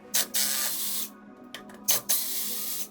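A power screwdriver backing out the screws that hold the back plate onto a water softener control valve body, several short whirring bursts with brief pauses between them, close and clear.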